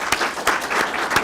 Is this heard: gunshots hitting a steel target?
no